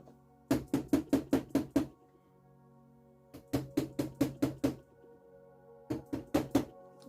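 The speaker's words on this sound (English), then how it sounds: "the knock at the door, or you have a door knocker" Three bursts of sharp knocking on a door, each a quick run of about six evenly spaced raps separated by silent pauses, crisp and close with no voices.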